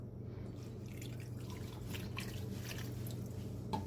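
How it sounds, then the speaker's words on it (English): Broth being poured into a pot of Dublin coddle: a close, steady liquid trickle and splash with a faint low hum behind it, heard alone with no talk. "This is 2 more cups of broth that I'm adding kind of around the edges."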